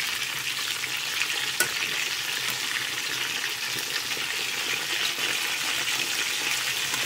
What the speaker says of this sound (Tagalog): Ayan na, itong fried chicken. Wait na lang natin siyang mag-brown.